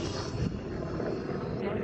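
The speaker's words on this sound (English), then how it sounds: "It's a helicopter." A helicopter passing over a park gives a faint, steady engine drone in the distance, with people talking nearby.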